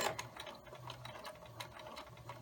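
A sewing machine runs steadily, stitching quilt fabric through a 1/4 inch presser foot, with a fast even mechanical patter at close range and no speech.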